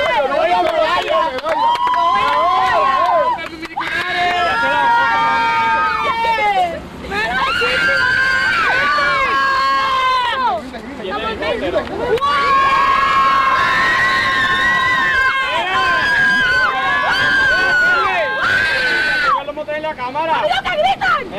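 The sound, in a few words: crowd shouting and cheering at offshore powerboat race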